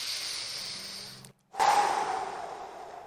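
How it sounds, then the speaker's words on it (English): Deep, steady breathing close up: a long drawn breath, a brief pause, then a strong rushing exhale that fades out slowly. "take some deep breaths"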